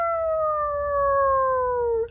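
A werewolf mother's howl in a read-aloud haunted-house story, voiced by a person imitating the sound: one long, steady, loud howl sliding slowly downward in pitch, held alone for about two seconds.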